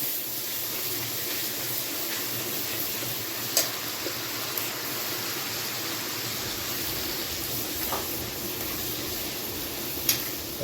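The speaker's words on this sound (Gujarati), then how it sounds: "આપણે લસણની કરેલી ગ્રેવી કરેલી એનો પેલો વઘાર કરશું" Garlic and onion gravy hisses steadily as it fries in hot oil for a tempering, a continuous close sizzle with a few faint clicks and taps over it.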